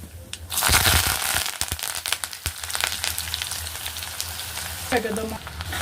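Mustard seeds, cumin, onion and curry leaves hit hot oil in a pan for a paneer curry, bursting into loud sizzling and crackling close by, with stirring scrapes and popping, while voices talk nearby.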